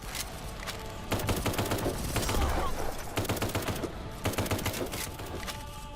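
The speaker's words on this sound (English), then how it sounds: "Yeah, that's a battle rifle, alright." Battle rifle gunfire in a first-person shooter video game, sounding as repeated bursts of sharp shots in clusters over a steady background of ambience, fairly loud and close.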